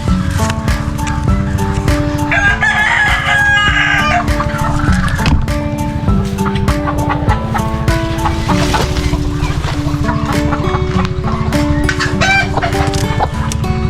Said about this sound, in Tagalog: Yan po, manok din na naglilimlim.